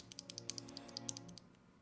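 A mechanical keyboard with Zaku switches is typed on in a quick, irregular run of crisp, close clacks, with a faint steady hum beneath.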